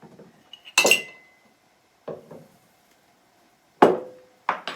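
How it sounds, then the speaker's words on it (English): Dirty dishes being cleared from a kitchen counter produce a few sharp clinks and clatters of glass, cutlery and plates, spaced out in short bursts with quiet gaps between them. "Get my dirty dishes out of the way."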